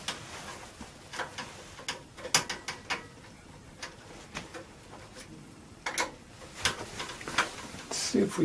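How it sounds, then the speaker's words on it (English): A screw holding the VGA card inside a personal computer is undone, making a string of small, close, irregular metallic clicks and scrapes with brief quiet pauses between them. "It's held in place by a screw up here, so if we undo that"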